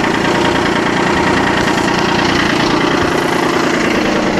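Mazda RX8 rotary engine with a fault, running steadily and loudly up close, a rough, knocking idle with constant vibration and no talking.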